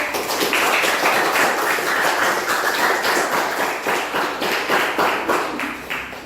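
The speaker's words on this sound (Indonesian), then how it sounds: "Ya, berikan aplaus." A classroom audience applauds after a group presentation, with many hands clapping in a dense, steady burst close to the listener. It keeps going for several seconds with a faint rhythmic pulse before easing slightly at the end.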